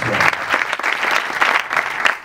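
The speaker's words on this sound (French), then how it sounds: "au public, une fois de plus, applaudissez pour vous-même" Audience applause at a French-language youth talent presentation ceremony, steady dense clapping from a crowd throughout, fairly loud and continuous with slight swells.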